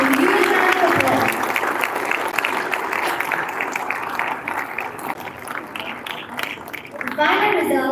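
Audience applause at a Gavel Club grand finale contest, dense steady clapping from a crowd that tapers briefly before a fresh burst near the end.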